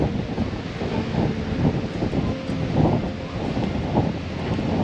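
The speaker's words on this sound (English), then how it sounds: "There's no other sound other than the wind." Strong gusting wind at Playa de las Americas in Tenerife, Spain, roaring and buffeting the microphone in uneven surges, loud and continuous with no other sounds.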